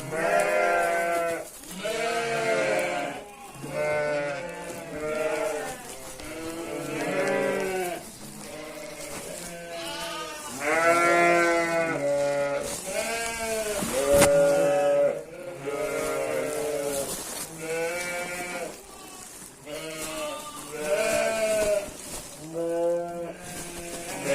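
Lambs and sheep bleat loudly on a Turkish farm as they are weaned and fed, a dense chorus of overlapping wavering cries close by, nearly continuous for the whole stretch, with no speech.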